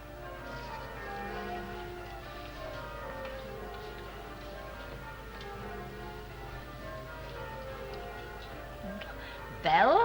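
Distant church bells ringing for a wedding in a slow, repeated pattern, faint and steady, with a brief louder burst of sound at the very end.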